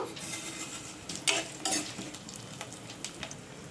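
Cinnamon, cloves, ginger, garlic and sesame seeds frying in a tablespoon of oil for masala kaju curry, a continuous close sizzle with crackling pops and a few stirring clinks, no talk.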